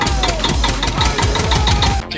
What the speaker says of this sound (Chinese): 一脚油门到底，来到7000转。